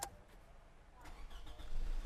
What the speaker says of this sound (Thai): สตาร์ทเครื่องยนต์นะครับ